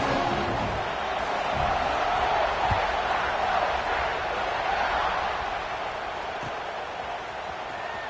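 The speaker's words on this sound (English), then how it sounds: "this crowd now ready to get behind them" Stadium crowd noise from the NCAA 26 college football video game, a steady, dense roar of many voices before a kickoff, holding at an even level with no clear talk over it.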